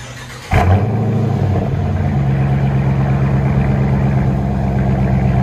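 A 2020 Dodge Challenger R/T Shaker fires up with a sudden burst, then settles into a loud, deep, rumbling idle through Dynomax Race Bullet mufflers, steady and close.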